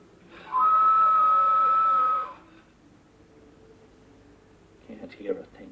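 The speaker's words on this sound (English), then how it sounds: "when you're blowing it, it makes a whistle" A single steady, shrill whistle blown into a speaking tube sounds for nearly two seconds, fairly close, then fades, followed by quiet and a faint muffled voice.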